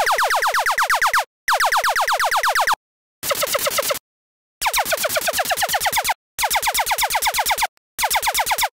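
Distorted synth laser made in Serum for tech and deep house, a gritty buzzing zap that sweeps downward and repeats in rapid bursts, broken by short gaps of silence.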